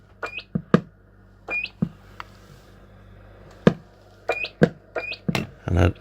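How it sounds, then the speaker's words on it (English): A Cobra 148 GTL DX Mark 1 CB radio gives short electronic end-of-transmission beeps, several brief chirps scattered among clicks and bursts of static, close and fairly loud. "And of course has that very distinctive Mark 1 beep."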